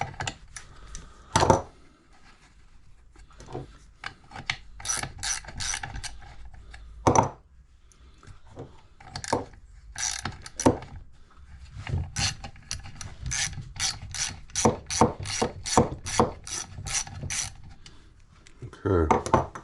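Ratchet wrench backing a bolt out of a bike, a close series of rapid clicking bursts with pauses between strokes, some speech mixed in.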